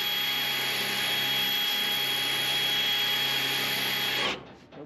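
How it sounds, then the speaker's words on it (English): A power drill whines steadily and loudly as it bores into the corner of a tail light tray on a 1970 Chevrolet Nova, running continuously for about four seconds before it stops abruptly. "It's like drilling it right on that corner."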